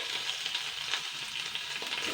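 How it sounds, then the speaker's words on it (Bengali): Boiled potatoes fry in hot oil with a continuous bright sizzle and fine crackling, close and steady for a couple of seconds. "এবার আমি আলুটা একটুকুনি হালকা করে ফ্রাই করে নেব"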